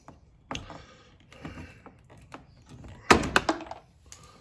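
A trim tool prying a plastic bumper clip out of a Jeep Wrangler JL front bumper, with scraping and light clicks building to a sharp pop near the end, close and loud.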